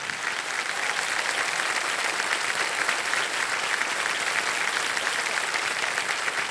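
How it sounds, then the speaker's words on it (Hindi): A studio audience on a televised Hindi quiz show applauds steadily to welcome back a returning contestant, a dense, even wash of clapping that holds at constant loudness throughout with no voices over it. "उनको हम तालियों के साथ स्वागत करते हैं"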